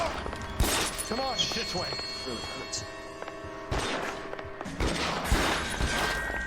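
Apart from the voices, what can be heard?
gunfire in the video game L.A. Noire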